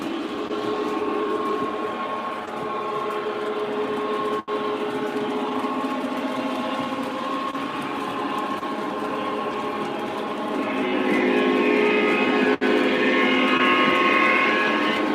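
Lionel and MTH model trains run fast on a Conrail-themed layout, giving a steady loud rolling rumble and clatter of wheels on track throughout, with brief clicks and a slight rise in intensity near the end.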